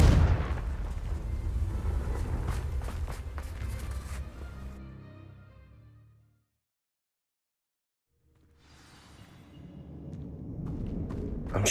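A Confringo fire spell explodes in Hogwarts Legacy inside a catacomb, a loud booming blast with crackling debris that decays into silence, followed by a rumbling tail rising again.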